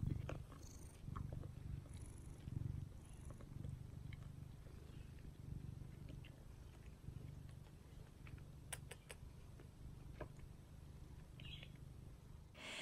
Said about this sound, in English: his purrs.